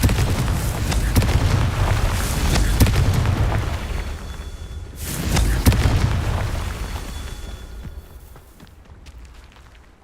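Deep booming blasts from the Confringo fire spell in Hogwarts Legacy, two heavy explosions a few seconds apart with rumbling tails that fade toward the end.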